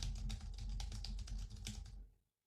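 Close, rapid keystrokes on a computer keyboard clatter in quick clusters, then stop abruptly and leave silence.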